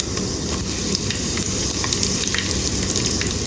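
Urad dal, cumin and curry leaves fry in hot oil with a loud, dense, continuous sizzle and crackle, close and steady, with no voices.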